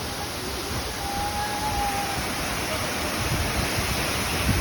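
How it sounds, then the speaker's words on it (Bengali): A waterfall at Netarhat roars as a steady, dense wash of falling water, continuous and fairly loud throughout with no pauses. "দৃশ্যটা দেখছেন কত সুন্দর ঝর্ণা"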